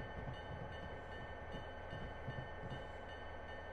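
A freight train in the Cajon Pass train-simulator game rolls into the Oro Grande siding, a low steady rumble with soft rhythmic rail thumps under a constant hum, quiet and without talking.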